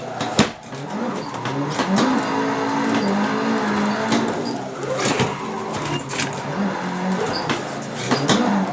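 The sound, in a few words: Nissan 180SX engine drifting in video game Assetto Corsa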